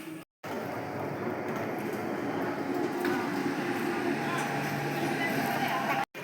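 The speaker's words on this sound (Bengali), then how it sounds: "এত অবসরের পরে দেখো ট্রেন শেষমেশ আসছে" A train pulls in at Mouri station, a steady broad rumble of wheels and carriages filling the platform continuously, with faint voices in the background.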